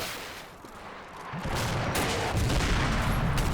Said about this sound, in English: so I order B and C Company to lay down suppressive fire.